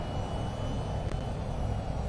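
The F/A-26B fighter jet in the VTOL VR video game throttles up with a steady, broad engine roar that holds constant and fairly quiet, with no talk over it.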